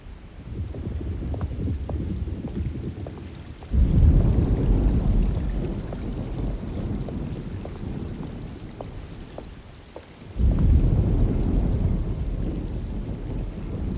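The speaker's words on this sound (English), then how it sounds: "Looks like a storm's coming." A steady downpour hisses through a thunderstorm in the Alone in the Dark remake, and two deep, rumbling thunderclaps roll in several seconds apart over the constant rain.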